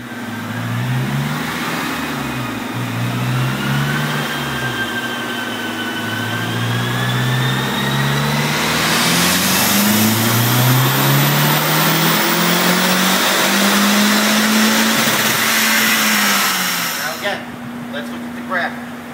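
Mazdaspeed3 running a Cobb tune makes a dyno pull, its engine droning steadily and then climbing loudly in pitch as revs rise across the run, cutting off near the end, with some talk underneath.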